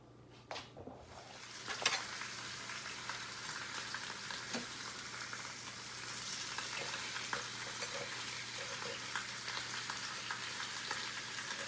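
Pork chops fry in a pan with a steady, close sizzle and crackle that runs the whole time, and a few sharper pops and stirring clinks come near the start.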